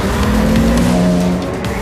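GT race cars at the Magny-Cours circuit heading out for a rolling start, loud sustained engine roar with droning tones and some tire noise, close and continuous without speech.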